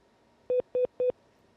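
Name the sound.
telephone line tones during a failed phone connection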